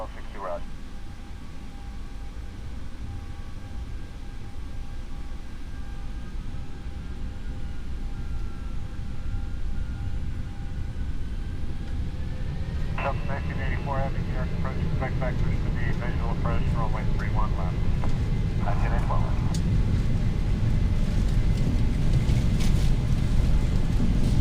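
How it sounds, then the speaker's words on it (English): A Boeing 737 in the flight simulator X-Plane 10 beginning its takeoff roll with flaps set, a steady jet engine roar that slowly builds in loudness, with a few clicking and warbling cockpit tones midway, with no talking. "set our flaps to 5 degrees, and let's start the takeoff."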